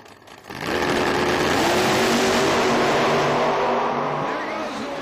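A drag race car launches hard down the strip at Tulsa Raceway Park in a PDRA event, a sudden roaring blast of engine that holds loud and sustained before easing slightly, with a commentator's voice underneath.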